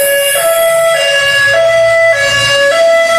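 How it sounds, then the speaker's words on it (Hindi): An ambulance siren wails loudly in a repeating two-tone pattern, close by, with rain and road noise underneath. "और यहाँ पे आ रहा है एम्बुलेंस,"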